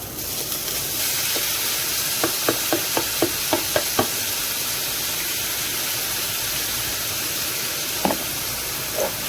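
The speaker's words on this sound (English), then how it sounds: "I'm going to put our rehydrated potatoes in there" Rehydrated potatoes frying in olive oil in a preheated pan over medium to medium-high heat, making a continuous close hiss with a quick run of light utensil taps and a few scattered clicks.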